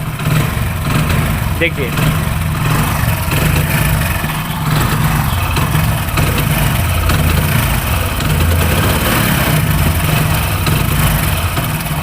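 A Hero Passion Pro motorcycle with a fault that makes it sputter when revved, its engine running close and loud throughout with a rough, uneven throttle, while someone speaks briefly over it.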